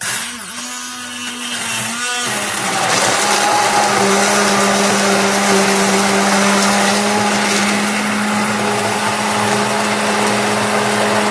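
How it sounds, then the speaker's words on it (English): An electric blender grinds curry spices and whole cardamom pods, starting with a short burst and a brief pause, then settling into a loud, steady high-pitched whirr close by for the rest of the time. "Let's blend this up a little bit."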